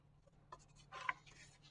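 Soft scratchy strokes of a colored pencil shading on paper, a few brief rubbing passes close up in a quiet room.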